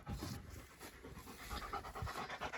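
A dog pants steadily in quick, rhythmic breaths inside the cab of a Can-Am Defender utility vehicle, faint and close.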